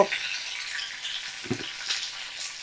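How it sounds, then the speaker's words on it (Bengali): Broad beans and eggplant frying in mustard oil, a bright continuous sizzle with crackling spatter and a brief stirring thump midway, close and clear with no talk. "তো শিম আর বেগুন আমি করার মধ্যে তেলে দিয়ে দিয়েছি সর্ষের তেলের মধ্যে"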